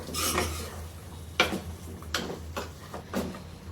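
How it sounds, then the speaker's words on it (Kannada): Masala being stirred with salt in a cooking pot, a handful of distinct metallic scrapes and clinks of a utensil against the pot spaced irregularly over a quiet low hum, close and fairly soft. "ಈಗ ಒಂದಿಷ್ಟು ಉಪ್ಪನ್ನ ಹಾಕೋತೀನಿ ಮತ್ತೆ ಚೆನ್ನಾಗಿ ಮಿಕ್ಸ್ ಮಾಡೋಣ"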